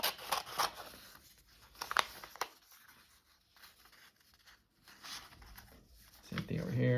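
Scissors snipping through paper along a straight line, a few close, crisp cuts in short bursts with pauses, while a person talks over them.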